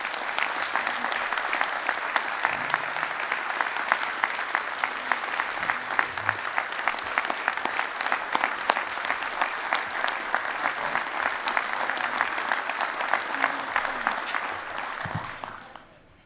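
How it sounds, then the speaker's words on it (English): Loud, sustained applause from a large audience of delegates at a 2015 utility workers' union convention, steady dense clapping for about fifteen seconds before fading out abruptly. "Let's give a huge applause to Jonathan."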